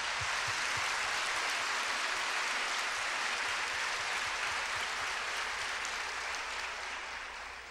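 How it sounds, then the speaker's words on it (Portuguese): A crowd at a religious gathering claps steadily in a dense, moderately distant wash of applause that holds evenly and fades slightly at the end. "Vamos aplaudir essa palavra."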